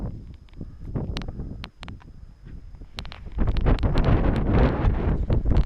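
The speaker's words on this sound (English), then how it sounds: "At a very windy lookout." Strong gusty wind buffets the microphone at a lookout in Flaming Gorge, Utah, rumbling low and rising louder in the second half, with brief rustling bursts over it.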